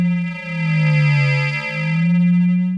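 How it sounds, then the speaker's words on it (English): A steady FM synthesizer tone from Omnisphere 2, using a sine wave, with a strong low fundamental and rich stacked harmonics, sustained and loud, dipping briefly in level twice. "this is FM, and it's using a sine wave."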